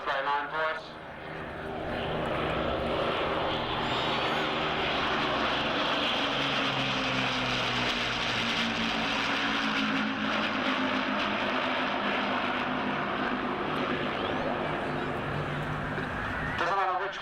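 A display aircraft at the 1993 Shoreham airshow makes a tight turn down the display line, its engine drone rising and sweeping steadily for the whole pass, loud and continuous.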